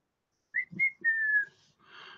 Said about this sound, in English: I'm going to be whistling a lot